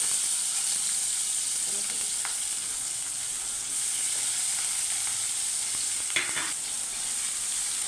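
Green chili, onion, tomato and radish sauté in a pan with a constant hissing sizzle, occasional soft scrapes of stirring and one brief clatter late on.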